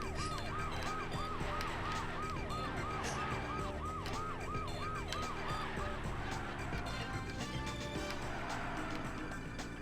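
A police siren in the video game Blast Corps wails in a rapid, repeating up-and-down pattern over busy game music and engine rumble, loud and continuous for several seconds.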